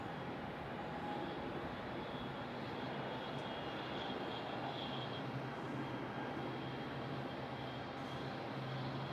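An airliner departing runway 27 at Melbourne Airport gives off a steady, distant jet-engine roar that holds evenly throughout, with no voices.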